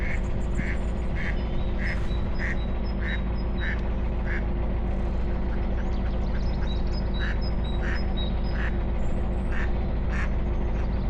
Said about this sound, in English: They're talking to us, the ducks.